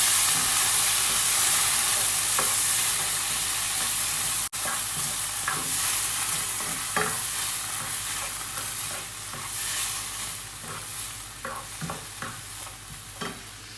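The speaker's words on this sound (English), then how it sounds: "Give it a good stir." A spoon scrapes and stirs through tinned tomato sauce in a pan with a steady sizzling hiss, the scraping strokes becoming clearer toward the end.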